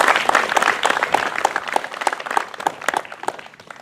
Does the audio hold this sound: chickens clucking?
no